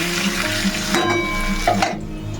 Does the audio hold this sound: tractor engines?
no